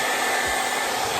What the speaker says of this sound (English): We're gonna blow dry it.